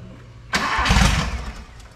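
A Volkswagen Gol's engine cranks and catches after half a second of low idle hum, then roars up briefly and settles into a rough running rumble, close and loud.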